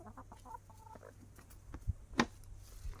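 Chickens cluck in short, scattered bursts around a rural Thai home garden, fairly close and moderately loud, with no talking over them.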